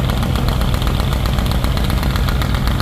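A passenger launch engine runs at high speed with turbo and silencer pipe roaring, a loud, dense, continuous rattling drone close by with no break.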